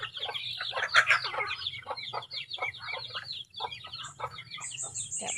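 A flock of farm chickens clucks continuously at close range, with rapid overlapping calls and a brief louder burst of squawking early on, over a faint low hum.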